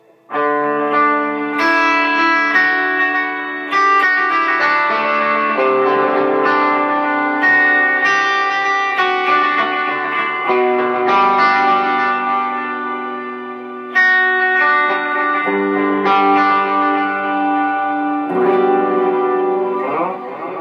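Electric guitar through a Line 6 M13 with Octo reverb and delay plays a steady flow of notes and chords, echoes trailing behind each phrase over a wide reverberant wash.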